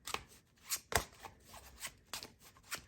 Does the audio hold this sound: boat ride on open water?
no